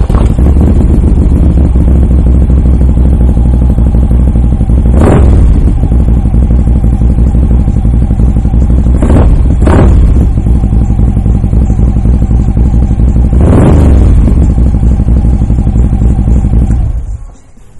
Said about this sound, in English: go ahead and fire this bike up for you so you can hear that Vanson